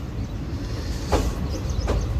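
Passenger train on the Guntur–Macherla line rolling into Macherla station platform, a steady low rumble of wheels with a couple of squealing metallic rail sounds, heard from on board with no voices.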